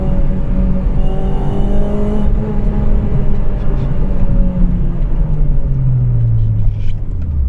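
Steady engine drone from a Honda Civic Type R FD2 four-cylinder while driving, close and loud, with the pitch gliding slowly as revs shift and road rumble underneath. No voices are heard.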